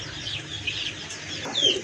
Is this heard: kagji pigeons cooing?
yes